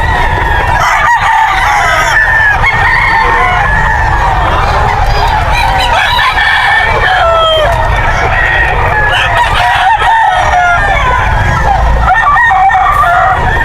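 Stag roosters about eight months old at the Bocaue pet market, crowing repeatedly and clucking up close, with people talking over a busy market background.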